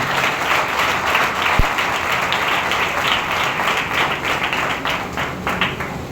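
Sustained applause from a congregation at a healing church meeting, steady dense clapping throughout with no pauses and one sharper thump partway through.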